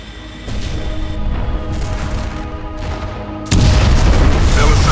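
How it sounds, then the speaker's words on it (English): Capital ship guns open fire in the space combat game Freespace 2: a heavy rumbling barrage that swells and then jumps into a loud, sustained roar, with a voice faintly present under the din. "Gunnery control, open fire."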